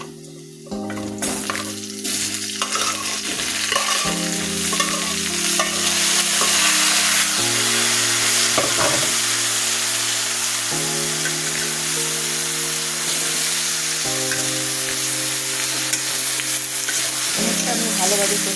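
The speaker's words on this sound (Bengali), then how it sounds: "পেঁয়াজটা ভাজা হয়ে গেছে, এখন আমি আস্তে আস্তে কুমড়োগুলো দিয়ে দেব।" Ash gourd frying and stirred into already fried onions in a hot pan, a loud, continuous close sizzle with occasional scraping of the utensil, over soft background music.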